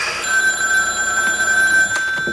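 A telephone bell rings loudly and continuously at close range, a steady electronic trill with no talking over it.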